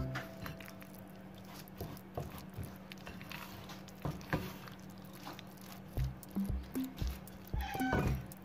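A cat meows a few times in a home kitchen, short cries toward the end over a constant low hum and scattered clatter and rustling.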